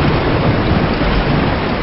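Heavy rain pours steadily in a Tagalog animated cartoon, a loud, dense and continuous hiss with a low rumble underneath and no pauses.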